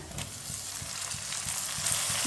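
Chopped tomatoes and green chillies are stirred into garlic and ginger frying in a pan, a steady close sizzle broken by soft rhythmic stirring scrapes, with no talk.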